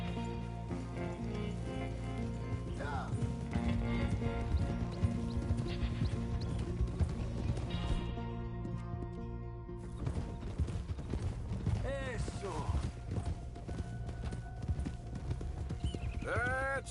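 A horse in Red Dead Redemption 2 walks with a steady clip-clop of hooves, joined by creaking tack, a whinny and faint background sounds, no speech.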